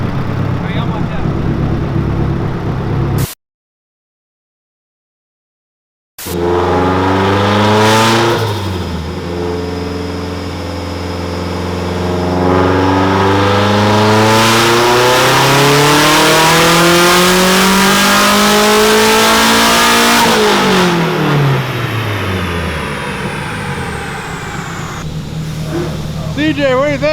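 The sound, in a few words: DR30 shop car engine revving loudly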